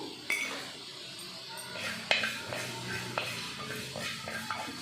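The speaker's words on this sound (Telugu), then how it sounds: "ఇవన్నీ సిమ్లో పెట్టి అన్నీ డ్రై రోస్ట్ చేయాలి" Coriander seeds, cumin, cinnamon, cloves, fenugreek and mustard seeds dry roast on low heat in a pan, stirred with a spoon in intermittent soft metallic clinks and scrapes, fairly quiet.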